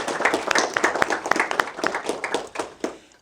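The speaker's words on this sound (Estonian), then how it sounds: "tervitame aplausiga teda." A small community audience welcoming a guest speaker breaks into applause, individual hand claps audible as a loose, uneven patter that thins out and fades near the end.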